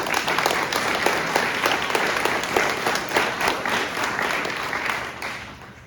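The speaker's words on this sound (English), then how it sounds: "Let's give them a round of applause" An audience at a 2024 master plan presentation gives the standing master planning team a round of applause, steady full clapping lasting several seconds before easing off.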